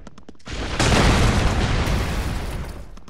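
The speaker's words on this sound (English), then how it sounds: "I thought it would have been a bigger explosion than that." A loud, sustained explosion in the Broforce video game bursts into a dense roaring rumble that slowly decays, preceded by quick rattling gunfire.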